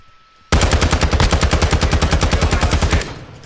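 Sustained automatic gunfire in the video game Modern Warfare 2, a loud, rapid, evenly pulsing burst lasting about two and a half seconds before cutting off abruptly.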